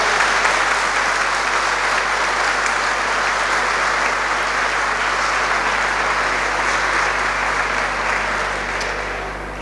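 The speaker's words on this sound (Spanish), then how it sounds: "Un aplauso, recibámoslo como parte de aplauso." A church congregation breaks into sustained applause, a dense, even wash of clapping that holds steady and fades slightly near the end, with a low hum underneath.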